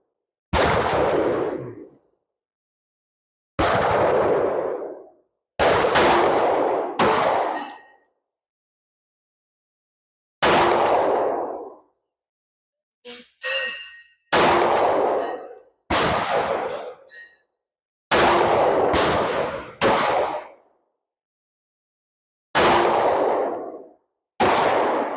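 Shots from a P365 X-Macro pistol firing 124 grain Flex Lock defensive ammo ring out about ten times at irregular intervals. Each sharp, loud crack trails off into a ringing decay, with silence between the shots.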